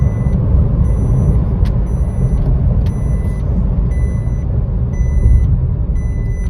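A truck rumbles loudly nearby with a low, steady engine drone while high, evenly repeating reversing beeps sound over it.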